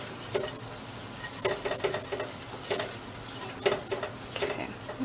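Flour mix is stirred into a gluten- and dairy-free cream of chicken soup base in a pot, with quiet repeated scraping and tapping of a utensil over a faint sizzling hiss.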